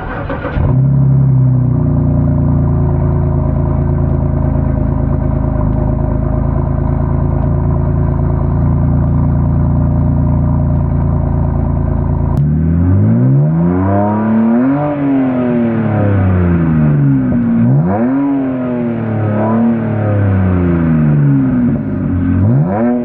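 A BMW E92 with newly welded exhaust tips starts and idles with a deep, loud burble, then the engine is revved several times, each rev rising sharply and falling back, close to the exhaust with no talking.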